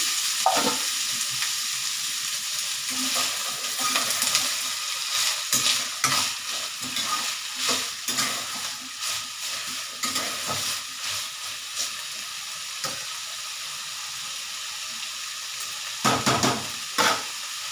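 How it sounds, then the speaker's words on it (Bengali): Dried red chilies frying in a spice tempering give a steady close sizzle and hiss, broken by repeated scrapes and clatters of stirring in the pan, with no talking. "যে ওই ফোড়ন দিয়ে দিয়েছি শুকনো লঙ্কাটাও তার ভাজা বসিয়ে দিলাম"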